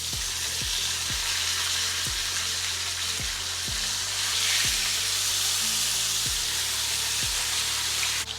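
A steak searing in a hot pan gives off a loud, continuous sizzle and hiss, with a regular low ticking underneath throughout and no talk.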